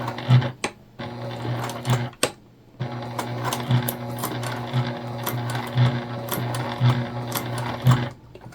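Sewing machine stitching through a compressed mini bag, a steady rapid motor hum with repeated clicks and brief pauses between bursts of stitching, close and clear with no talking.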